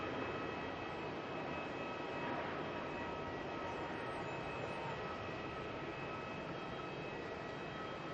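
Jetstar A321 airliner making its way toward Denpasar at Melbourne International Airport, a steady distant broadband engine rumble and roar holding level throughout with no voices.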